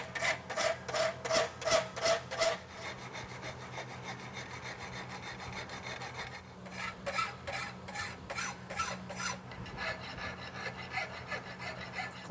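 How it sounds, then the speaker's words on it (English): A blacksmith files the branch of a front suspensory horseshoe with rhythmic, close rasping strokes, quick regular pulses at first, then a steadier scraping run over a low background hum. "Finish this last branch off with the file."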